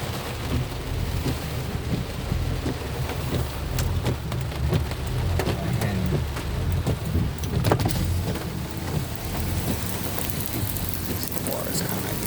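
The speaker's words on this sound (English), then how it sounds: "It's always at night when it rains." Steady rain beats on a car during a night thunderstorm while driving through flooded streets in Metairie, a continuous dense patter with low rumbling road and engine noise, with occasional sharper drops and swells throughout.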